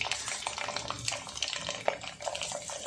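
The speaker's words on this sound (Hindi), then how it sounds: "अब हम गरम तेल में धीरे धीरे करके साबूदाना डालेंगे और उसको बहुत ही अच्छे से फूलने तक फ्राई करना है" Sago pearls (sabudana) fry in hot oil with a soft, steady bubbling crackle and small pops, faint and continuous throughout.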